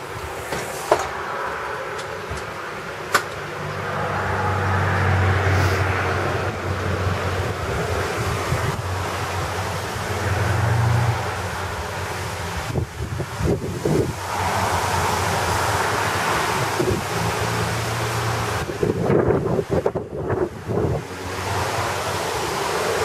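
Strong, steady wind of an approaching thunderstorm roars and gusts continuously, with a few knocks and rattles mixed in and no voices.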